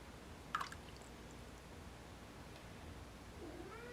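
A house cat gives a brief meow or two, faint against steady room noise, with a soft squeak later on; nothing else stands out.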